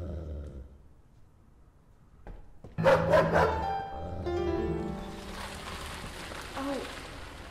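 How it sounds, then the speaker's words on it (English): A dog barks a few times in the video game Lorelai, a short burst of close yaps rising out of quiet rain-like ambience, followed by a lingering game soundscape. "Bark."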